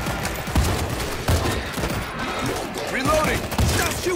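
Friendly gunfire in the PC shooter World War Z rattles in repeated close bursts of rapid shots, loud and sharp, with faint game noise between volleys.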